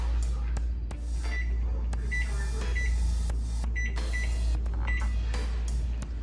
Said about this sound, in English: we're gonna put that in the oven at 350 for 20-25 minutes.